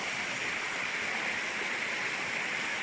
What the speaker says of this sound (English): Here we are on the famous Chisholm Creek. It's running down this way.